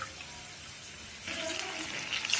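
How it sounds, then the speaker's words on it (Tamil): Water pours from a tumbler into a cooking pan for rava upma, a soft trickle that turns into a brighter, louder splashing gush halfway through, close by. "அதே மாதிரி இந்த டம்ளர் 2 டம்ளர் தண்ணி ஊற்றணும்."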